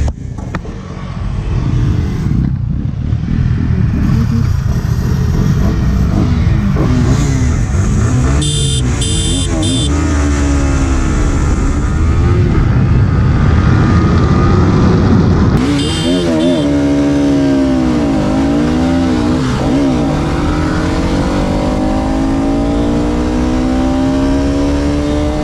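Sport motorcycles, a Yamaha R15, Pulsar RS200 and KTM RC200, rev their engines loudly and up close, the revs climbing and falling repeatedly in overlapping bursts with a constant rumble underneath.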